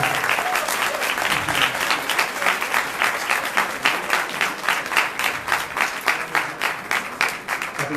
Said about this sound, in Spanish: solicitamos un fuerte aplauso a nuestro ponente que nos acompaña